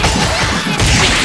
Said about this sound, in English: Web throw